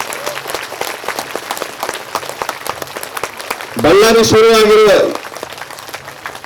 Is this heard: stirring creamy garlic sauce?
no